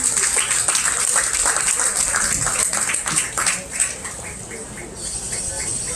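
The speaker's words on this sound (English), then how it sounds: "Just give these kids a round of applause for a very good job." An audience at a youth goat show claps for the kids in the arena, a dense, fairly loud wash of applause that carries on steadily and thins slightly toward the end.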